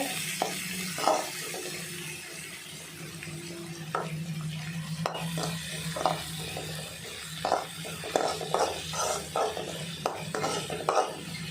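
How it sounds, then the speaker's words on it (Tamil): Onions with curry leaves stir and sizzle in a pan for tomato thokku, a steady close frying hiss with repeated scraping strokes of a spoon against the pan, no talk. "நல்லா கிண்டுங்க."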